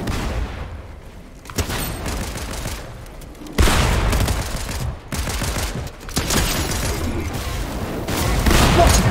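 Bursts of rapid gunfire and heavy shots from a Fortnite match, loud dense volleys broken by short gaps, with explosive booms mixed in.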